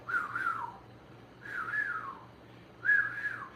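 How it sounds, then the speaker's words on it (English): A KITT scanner sound effect from a prop replica: three evenly spaced, swooping whistle-like tones, each rising and falling. It is faint and repeats in a steady rhythm over a quiet low hum. "Then you have another sound output that is the scanner going"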